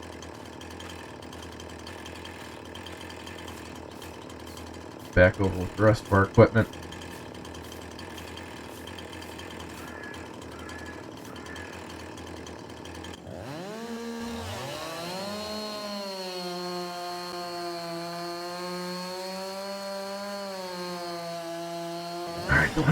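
A chainsaw in Farming Simulator 22 roars with a steady engine drone and rising, wavering pitch as it works on timber, loud and continuous; someone talks briefly early on.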